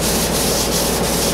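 A DA sander works over Bondo body filler, a steady, close, unbroken rubbing hiss that holds level from start to finish with no voices.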